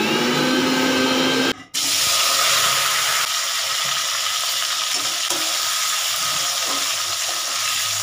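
A grinder whirs loudly and continuously as it blends a sesame and poppy seed spice paste, the steady mechanical roar broken only by one brief pause early on.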